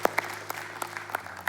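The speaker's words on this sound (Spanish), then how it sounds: "Un aplauso, claro que sí" A few scattered, faint hand claps from a congregation during a Spanish-language church service, irregular and sparse rather than a full ovation.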